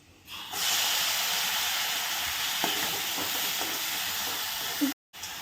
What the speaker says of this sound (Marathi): भोपळा टाकून घेऊ फोडणी छान झाली